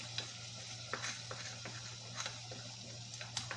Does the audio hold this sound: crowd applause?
no